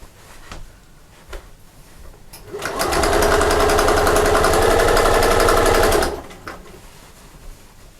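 A sewing machine stitches a seam on a fabric sewing machine cover, running in one steady loud burst of rapid needle strokes for about three seconds, then stopping, with faint handling noise before and after.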